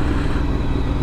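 A Ducati Monster 1100 evo motorcycle rumbles along the road, its engine a loud, close, steady throb with a gritty clatter, recorded from the rider's position without any talk.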